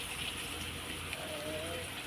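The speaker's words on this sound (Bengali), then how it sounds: "তো এর মধ্যে একটু জল দিই।" Water pours into a cooking pan of spiced vegetables, a soft steady gushing splash heard faintly against a low background hum.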